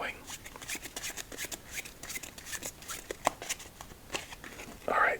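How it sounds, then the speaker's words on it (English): A deck of playing cards being shuffled up close, a rapid run of crisp riffling flicks and soft card slaps, with a louder flurry of riffling near the end. "let's shuffle up our deck and get things going."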